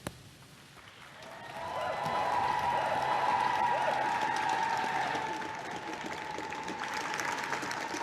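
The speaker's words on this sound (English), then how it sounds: "he's still soaking up the applause on the step of number 10 there" Crowd applause outside Number 10 Downing Street for the Prime Minister after his election address, a sustained, fairly distant wash of clapping and some cheering that swells and holds, with a faint tonal hum running through it.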